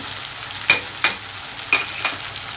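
Ground masala paste with coriander powder and salt sizzling in hot oil in a pan as it is stirred, four distinct scraping stirs over a steady frying hiss, close by with no talking.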